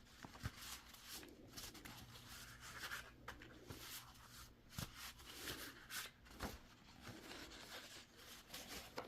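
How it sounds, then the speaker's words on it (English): Soft, close rustling and riffling of tarot cards being shuffled, a quiet papery scraping with occasional sharper flicks and no one speaking. "And sorry for the shuffling noise."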